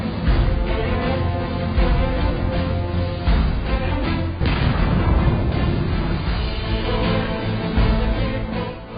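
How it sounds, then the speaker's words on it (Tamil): A bomb explodes inside an ATM: a heavy, continuous roar of blasts and booming bursts, loud and dense throughout, with a sharper explosive crack midway. "அதை வெடிக்க வைக்கிறார்"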